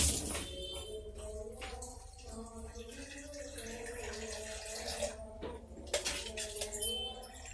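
Water is poured into a blender jar holding leftover gongura to rinse it while a chicken gongura curry cooks, giving a continuous splashing pour over steady tonal background sound, moderately quiet throughout.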